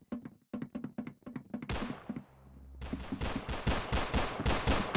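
Gunfire in the Roblox shooter Arsenal: a rapid rhythmic string of sharp, close shots, a brief pause with a low thump, then a dense, louder burst of continuous automatic fire.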